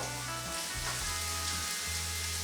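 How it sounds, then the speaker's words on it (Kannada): Onion frying in a pan for white sauce pasta produces a continuous close sizzle, with a low rumbling hum that cuts in and out underneath. "ಇಲ್ಲಿ ಈರುಳ್ಳಿ ಬ್ರೌನ್ ಆಗಬೇಕು ಅಂತಲೇ ಏನಿಲ್ಲ, ಜಸ್ಟ್ ಸ್ವಲ್ಪ ಫ್ರೈ ಮಾಡ್ಕೊಳ್ಳಿ"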